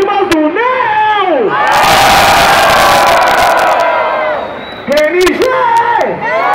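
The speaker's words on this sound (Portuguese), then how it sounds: "Barulho e mão pra cima pra quem gostou das rimas do Neo!" A live crowd at a street MC rap battle final in Rocinha roars and cheers for MC Neo, a dense sustained wave of shouting and whooping from close by, with a host's voice speaking before and after it.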